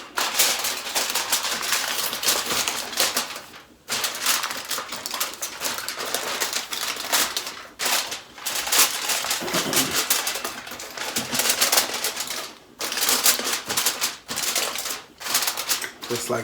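Aluminium foil crinkles and rustles as it is pressed over a seafood boil of seafood before it goes into the oven, in irregular crackly bursts separated by brief pauses.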